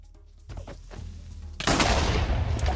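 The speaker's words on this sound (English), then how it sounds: "Synchronous creeper explosion." Creeper explosions in Minecraft: scattered thumps build into a loud, sustained blast that roars on through the end of the stretch, with no talk over it.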